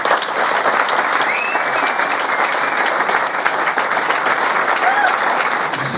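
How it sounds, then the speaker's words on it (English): A round of applause at a football club's player of the year awards night, dense and steady clapping from a crowd throughout, with voices faintly underneath. "I think a big round of applause for them"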